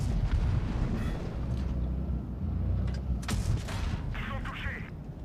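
Heavy cannon shots from a Progetto tank in World of Tanks Blitz, booming over a steady rumbling battle background with a couple of sharp blasts standing out.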